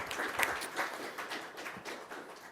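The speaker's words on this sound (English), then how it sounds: "But another applause for Julian, thank you." A school board meeting audience claps for a track athlete, a modest, fairly faint patter of hands with a few sharper individual claps standing out, fading slightly toward the end.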